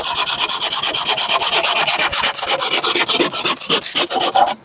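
Bamboo being cut for a gazebo with a hand saw, fast rhythmic rasping strokes, close and loud, continuing steadily for several seconds, with no voices.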